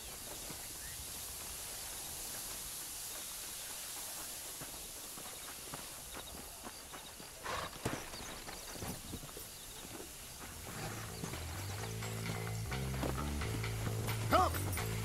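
Horse hooves clop irregularly in the Red Dead Redemption video game, set against steady ambient wind-like noise, with clusters of hoofbeats midway and a musical score rising beneath them toward the end.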